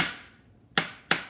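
Knife slicing mushrooms on a cutting board, with two sharp, close taps against the board a moment apart after a softer cut.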